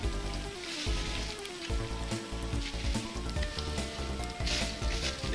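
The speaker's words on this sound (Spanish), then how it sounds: "Deja de hacer ruido, bolsa." A plastic bag rustles and crinkles continuously up close, a dense, loud crackling texture with no pauses and no talking.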